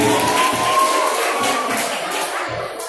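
The audience at a quiz contest grand final applauds after a correct answer, a broad wash of clapping and crowd cheering that gradually eases off, with a faint tone running beneath.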